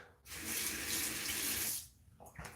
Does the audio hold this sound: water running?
yes